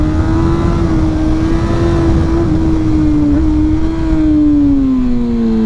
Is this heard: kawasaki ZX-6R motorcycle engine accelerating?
yes